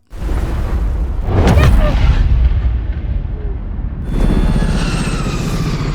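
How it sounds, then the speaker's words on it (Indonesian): A heavy, rumbling explosion in a film, from a ship's small tank, booms and rolls on for several seconds, followed by a second surge of roaring blast and debris noise. "ledakan itu berasal dari tangki kecil sebuah kapal"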